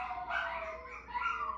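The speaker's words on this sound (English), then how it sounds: "One of them started to howl and now all of them are trying to howl" Several pet dogs howling together indoors at home, a faint wavering drawn-out wail that swells, dips and rises again.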